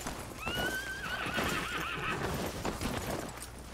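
A horse in the Red Dead Online video game gives a clear, rising whinny over steady clip-clop of hooves, close and fairly prominent for a few seconds.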